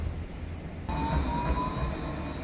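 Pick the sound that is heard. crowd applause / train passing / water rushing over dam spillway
train passing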